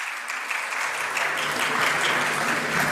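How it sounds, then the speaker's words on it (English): Audience at an Islamic banking and finance conference breaks into applause for a speaker, a loud, full wash of many hands clapping that swells and stays strong for the whole stretch. "So, we can have a louder applause, inshallah."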